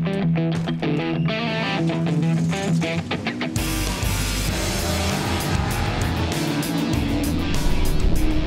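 Muscle cars racing at Eastern Creek during the 2010 Australian Muscle Car Masters: loud V8 engines roaring past, first a rising revving pass, then a dense, sustained wall of engine noise and crowd-level din.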